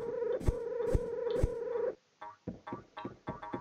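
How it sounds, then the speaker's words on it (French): A cat purring in the video game Road Not Taken: a steady, rhythmic rumbling purr with soft pulses, followed by a string of short separate chirps and taps, close and without talk. "Le chat ronronne et se frotte à vous."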